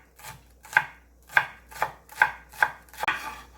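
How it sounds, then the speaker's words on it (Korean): Green onions are sliced with a knife on a board in six or seven crisp, evenly spaced chops, close and clear against a quiet kitchen. "쪽파를 송송송송 썰어줍니다."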